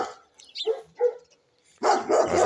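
Dogs bark in the Romanian countryside at an elderly man's farmyard, where goats and other animals are kept: a few scattered nearby barks, then a louder, denser burst of barking near the end.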